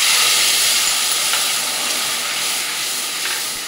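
A spice paste of ground green chilli and ginger sizzles loudly in hot oil in a home kitchen, a close, continuous hiss that eases slightly as it goes on.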